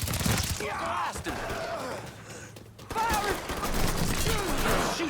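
Gunfire in the Mafia 3 video game rattles as bursts of shots mixed with shouting voices and groans, loud and continuous across the scene.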